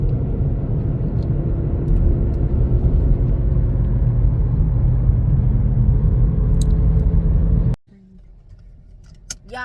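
Steady loud road rumble of a car cruising down Highway 64, a continuous drone that cuts off abruptly near the end, followed by quieter ambience.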